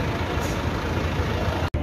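A heavy truck loaded with goats rumbles loudly and steadily at night in Pakistan, its low engine drone continuous with a brief cut near the end.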